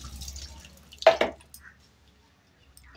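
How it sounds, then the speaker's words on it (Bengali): Water poured over a cat during its bath: a brief splashing pour in the middle, close, with quiet dripping around it and a faint voice. "জল ঢেলে দিয়ে"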